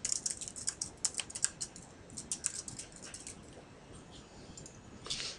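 Quick, light taps on a computer keyboard come in irregular bursts while a clue is typed onto a slide, fairly close but quiet, with no talking.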